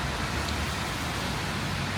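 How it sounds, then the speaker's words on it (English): Rain falls steadily outdoors, a dense, continuous hiss of drops that holds at the same level throughout, with no voices. "Gotta protect it from the rain at all costs"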